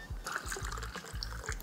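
Cucumber water pouring into a glass with ice, a close trickling splash with bright clinks and low gurgling pulses, steady and alone throughout.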